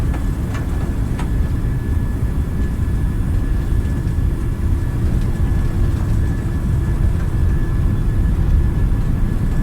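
Steady, loud jet engine roar from a PMDG 737-800 at takeoff thrust in Microsoft Flight Simulator 2020, a continuous broadband rumble with a faint high whine, unbroken and without talk.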